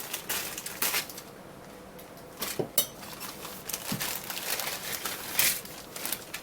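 Plastic wrap on a 1951 Chevy Fleetline AMT Ertl 1:25 scale model car kit being cut open and peeled away, giving close, intermittent crinkling and crackling with a few sharp rustles and light clicks, and no voices.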